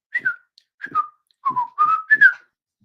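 A person whistles a short tune of five clear, sliding notes in separate phrases, close and alone with no other sound.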